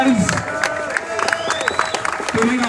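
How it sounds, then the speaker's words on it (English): A crowd at a UKIP event in Glasgow claps and cheers with scattered whoops, while a voice shouts over the noise; loud and lively throughout. "Give yourself a round of applause for being here today"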